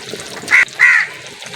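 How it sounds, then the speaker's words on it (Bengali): A crow calling nearby in a kitchen while chicken mince cutlets fry, giving two loud, harsh caws close together, the second longer, over a quiet background. "আমি এখানে রান্না করছি, পাশের কাক এত ডাকছে।"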